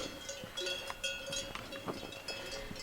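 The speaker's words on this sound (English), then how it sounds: "You can hear the bells." Sheep bells clink and jingle irregularly at a distance, light metallic tones over a quiet, foggy outdoor background on the Camino de Santiago.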